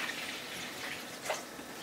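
Water streams steadily into a pot for cooking rice with chicken drumsticks, a soft continuous pour heard up close with no talking.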